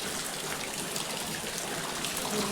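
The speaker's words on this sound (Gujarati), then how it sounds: "વરસાદ ભાઈ બહુ છે અતિશય વરસાદ એક ધારો એમનો જ છે" Heavy, steady rain pours down during a downpour in Amreli district, a dense, continuous hiss of drops spread evenly across the whole stretch with no break or voices.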